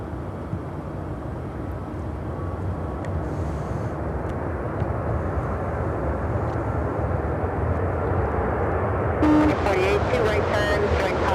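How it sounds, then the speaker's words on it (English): United Airlines Airbus A319 arriving at Chicago O'Hare, a broad, steady roar of jet engines that builds slightly, with a radio voice talking over it. "This next arrival is United Airlines 2048 coming in from Calgary on the A319."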